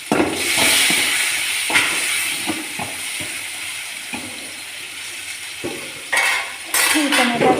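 Tomatoes frying in a pan for curry, with a hissing sizzle and repeated metal spoon clinks and scrapes against the pan, close, with louder bursts of sizzling near the end.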